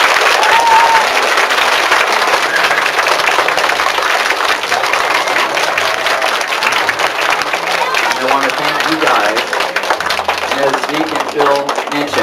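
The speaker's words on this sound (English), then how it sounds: "Would you give the gentleman here a big round of applause?" A room full of elementary school children and adults give a veteran a long, loud round of applause, dense steady clapping that fills the space from start to finish with some voices mixed in.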